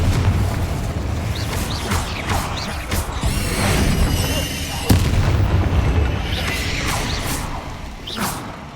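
A Confringo blasting spell goes off in Hogwarts Legacy, heard as dense crashing bursts and whooshes under a steady rumble, with a sharp impact near the middle of the stretch.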